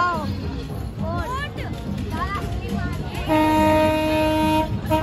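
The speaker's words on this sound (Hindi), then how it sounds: "और ट्रेन भी चालू हो गई है" A small fair train ride starting up, with a rumbling mechanical run under crowd chatter and people talking nearby, followed by a long steady horn toot near the end.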